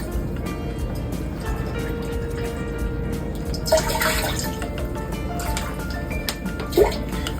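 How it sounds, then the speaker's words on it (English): Water poured into a deep cooking pot, a continuous splashing trickle with drips, close by, filling about four cups. "you want to put 4 cups of water into a deep pot"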